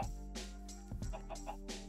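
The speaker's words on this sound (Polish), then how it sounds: "O, kurczaki mam obok." Minecraft chickens cluck nearby in a few short, repeated bursts over a steady low background hum.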